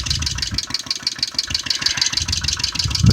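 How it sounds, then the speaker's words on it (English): A small engine fitted with a diaphragm carburetor idles steadily up close, its low firing pulses ticking in an even, rapid rhythm with a whiny mechanical overtone, rising slightly in loudness at the very end. "A lot of times diaphragm carbs won't idle down that slow."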